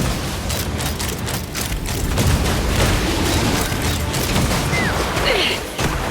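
Cannon fire in the Genshin Impact video game, a dense barrage of deep booms and crashing impacts over mechanical clatter, loud and continuous, with a few whooshing streaks.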